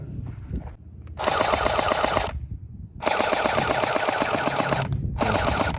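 Rapid bursts of automatic fire from an Orbeez gel blaster rifle styled as an M416, three loud sustained volleys separated by short pauses, close by.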